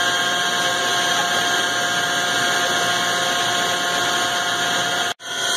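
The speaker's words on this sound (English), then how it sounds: "Spindle running," A Hwacheon Sirius-U CNC machining center spindle turns steadily at 1,000 RPM, a constant close whine with a layered mechanical hum that holds evenly throughout, then breaks off in a brief dropout just before the end.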